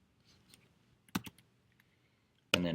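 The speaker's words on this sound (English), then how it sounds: "I can type in preview text here" Mac computer keyboard typed on for preview text, a few quiet scattered key clicks then a short close burst of keystrokes, with a louder dense rattle of typing at the end.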